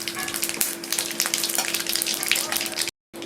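Bay leaves and radhuni seeds spluttering in hot oil as a tempering for a mustard-based cucumber and shrimp curry. A loud, crackling sizzle runs throughout with sharp pops, then cuts out briefly near the end.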